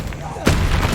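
The Expelliarmus disarming spell is cast in Hogwarts Legacy, a sudden loud booming burst halfway through that rolls on with a rumbling tail, over ambient game noise.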